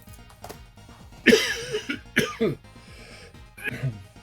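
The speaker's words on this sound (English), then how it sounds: "Oh, coughing like crazy." A person coughs several times in harsh, throaty bursts, a few in quick succession, close to the listener, with quieter throat noises between.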